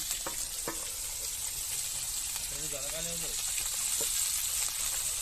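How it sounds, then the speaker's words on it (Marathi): Food deep-frying in oil gives a continuous loud sizzle and hiss, with faint scattered taps. A voice talks over it briefly in the middle. "ओ डीप फ्राय एकदम"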